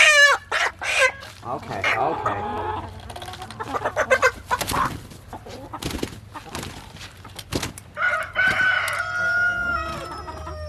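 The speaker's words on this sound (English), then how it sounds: "Don't let that loud squawking fool you" Meat chickens squawk loudly and repeatedly at close range in bursts of shrill, frantic calls, with a brief word spoken between them.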